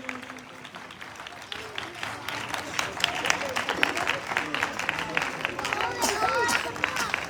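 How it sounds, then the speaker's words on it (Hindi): A church congregation in Islamabad applauding, with brisk clapping that builds and grows louder over several seconds, mixed with crowd noise while a preacher speaks. "सो आपकी जोरदार ताली चाहूंगा।"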